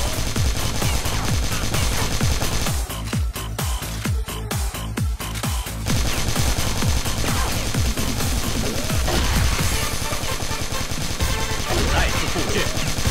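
Sustained, dense automatic gunfire from many weapons rattles across the map in a CrossFire infection-mode match, loud and continuous with clustered bursts, overlapping crashes and a voice talking over it.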